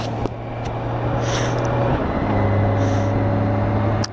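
A motorcycle engine, nicknamed Titine, warms up at a steady idle with a constant low drone, loud and close, with a brief clunk near the start and a slight shift in pitch midway.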